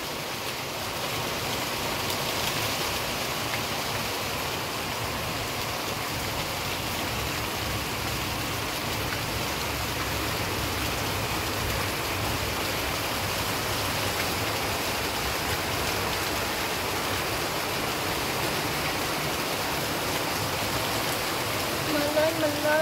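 Rain falls steadily over Bangkok as an even, continuous hiss that holds at a constant level throughout.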